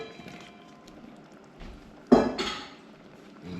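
A spoon stirs potatoes into chicken curry cooking down in a pot. Soft scraping sounds are quiet and near, broken by one sharper metallic clank partway through.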